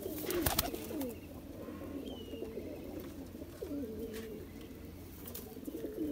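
Golden pigeons with red eyes coo in a loft near the border in Jammu and Kashmir, soft repeated coos and a few chirps against quiet background hum.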